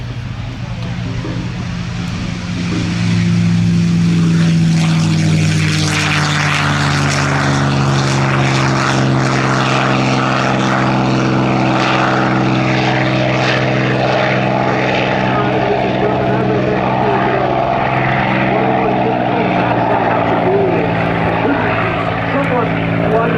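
A propeller airplane accelerates on its takeoff roll at the Geneseo, New York airshow, its engine drone swelling loud and steady and then holding for a long stretch.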